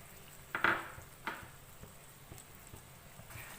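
Yogurt is stirred into chicken tikka karahi masala with softened tomatoes in a pan: quiet scraping and clinking strokes of a spoon against metal, with two clearer knocks early on, over a faint low sizzle.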